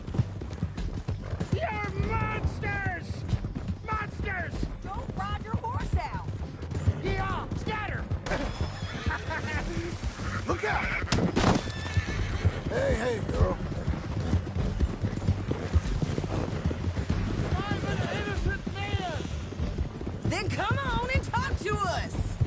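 A horse in Red Dead Redemption 2 gallops with steady rapid hoofbeats and whinnies at times, mixed with game music, crashes and voices talking throughout.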